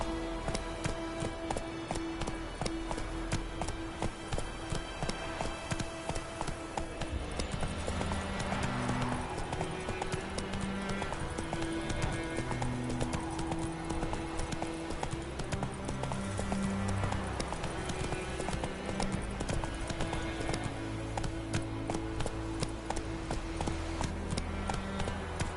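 Rapid, rhythmic hoofbeats of the horse Roach galloping in The Witcher game pound continuously for the whole stretch, mixed with a swelling orchestral score.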